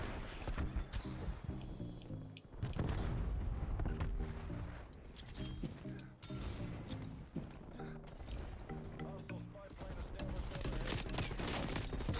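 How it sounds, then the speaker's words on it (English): Rapid gunfire from a Call of Duty Cold War match, loud bursts of shots and explosive booms overlapping almost continuously, with dense, chaotic volleys and brief lulls between them. "Where am I getting shot from?"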